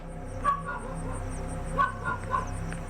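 Dogs bark outdoors at night, a few distant yips and barks scattered over a steady hum of insects and crickets.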